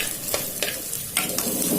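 Ginger garlic paste and curry leaves sauté in a pan for chicken and capsicum gravy, a close steady sizzle with several brief scraping stirs of a spoon.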